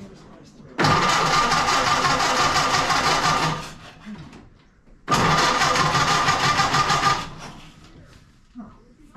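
A vintage hot rod engine cranks and catches twice, each time roaring loud and steady close by for a few seconds before dropping off, with a short gap between the two attempts.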